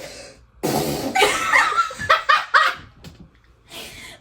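A voice imitates a loud, ripping fart in a long spluttering burst, then several shorter blasts, mixed with laughter.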